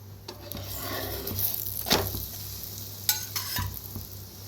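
Puran poli flatbread frying with oil on a hot pan, a steady close sizzle with soft crackles and brief scraping or turning noises, no talking.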